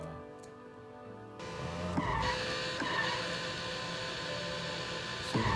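A sports car driving in Minecraft, a steady synthetic engine drone that starts softly and then jumps louder and brighter, holding a sustained even tone with a couple of brief clicks.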